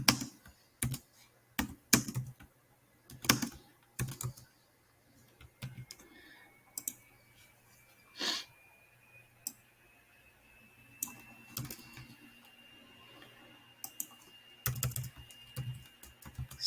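A computer keyboard is used to type web code for an on-click function, with short bursts of close, crisp key clicks spread unevenly over quiet gaps.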